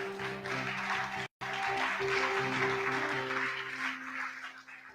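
A church congregation applauding and cheering in praise of God, with a dense, sustained wash of clapping under a held musical tone. The sound breaks off briefly, then continues.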